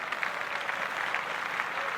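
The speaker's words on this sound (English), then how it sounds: "I'd like to clap it up for D Wade" Light, fairly quiet clapping from a small group in honor of Dwyane Wade, a brief steady patter with no voices over it.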